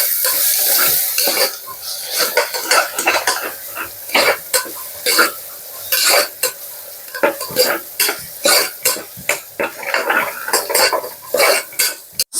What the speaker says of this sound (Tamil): தக்காளி நல்லா மேஷ் ஆகிற அளவுக்கு வதக்கி விட்டுக்கோங்க